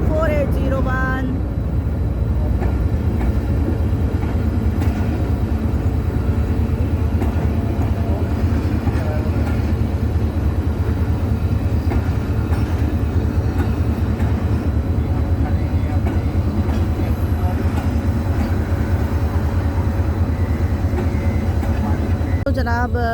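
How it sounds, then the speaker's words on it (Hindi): Marvi Passenger train pulling into Chhor station in the Thar Desert, a loud steady rumble of wheels and rail cars with a horn-like tone near the start, continuous throughout as someone talks over it. "जनाब छोर स्टेशन पे पहुंच रही है मारवी पैसेंजर ट्रेन"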